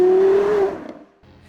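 A Porsche Carrera GT with a 5.7-liter engine revs hard, a loud rising mechanical scream that peaks and then drops away, followed by a quieter idle-like tail.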